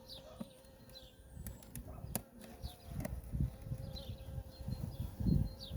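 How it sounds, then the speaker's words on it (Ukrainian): Honeybees buzz in a soft, continuous hum close by at the hive, with occasional fainter buzzes flitting past and scattered bumps and rustles. "Ось така кількість тут бджіл."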